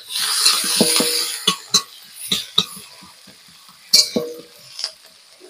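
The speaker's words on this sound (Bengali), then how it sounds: "এবার একে একে এর মধ্যে আগে থেকে কুচিয়ে রাখা পেঁয়াজ কুচি দিয়ে দেব।" Chopped onions dropped into hot oil with whole garam masala frying in a pan for potol sorshe, a steady sizzle broken by several sharp clacks and scrapes of a stirring utensil.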